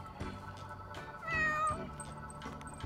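A cat meows in The Sims 4, a single drawn-out game-animal cry heard near and clear over soft background game ambience.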